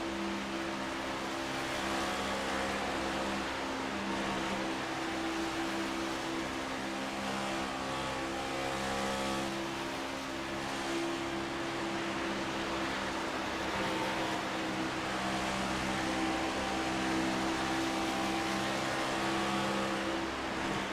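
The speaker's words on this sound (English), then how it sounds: "you can actually hear when he throttles in, then he throttles off" A race car engine in a sim racing game at Daytona International Speedway hums continuously at moderate level, its pitch and loudness easing and rising subtly as the throttle goes on and off, with no talking.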